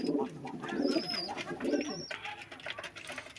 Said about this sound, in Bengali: আর এগুলো আমার সবগুলোই রাজশাহী গিরিবাজ কবুতর